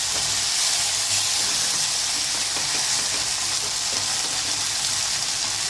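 Chicken pieces frying in a butter garlic sauce give a steady, dense sizzle and hiss throughout, loud and close, with faint bubbling and no talking.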